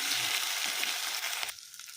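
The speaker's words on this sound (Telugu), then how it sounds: "మీడియం ఫ్లేమ్లో ఈ బెండకాయ ముక్కల్ని మనం హాఫ్ ఫ్రై చేసేసుకుందామండి" Okra pieces half-fry in oil in a kadai over medium flame, a dense close sizzle that cuts off abruptly near the end of the short stretch.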